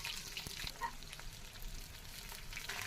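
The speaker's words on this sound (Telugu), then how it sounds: "తర్వాత సైడ్ కడాయి పెట్టుకొని అందులో ఆయిల్ వేసి, ఆయిల్ హీట్ అయిన తర్వాత ఆవాలు వేయండి" Mustard seeds and onions fry in hot oil in a kadai, giving a quiet, steady sizzle with scattered light pops and crackles throughout, no voices present.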